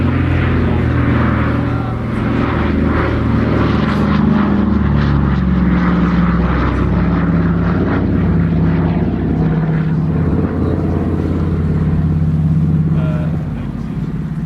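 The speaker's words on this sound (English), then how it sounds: "Number 233 Squadron Dakota, depicted by the BBMF example we see here" Battle of Britain Memorial Flight Douglas Dakota propeller transport plane flying past at an air display, a loud, steady piston-engine drone with rich low harmonics and a slowly wavering pitch throughout.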